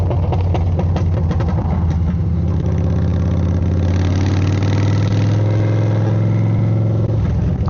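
A Yamaha V-Star motorcycle that has been through a crash runs loud on the road without a proper exhaust, with a steady throbbing engine drone and a slight rise in pitch partway through, close and continuous.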